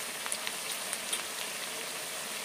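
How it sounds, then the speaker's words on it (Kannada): Onions frying in a pan, a steady dense sizzle of crackling hiss throughout with small pops scattered on top, close and even in level, no voices. "ಈರುಳ್ಳಿ ಸ್ವಲ್ಪ ಚೆನ್ನಾಗಿ ಫ್ರೈ ಮಾಡ್ಕೋಬೇಕು"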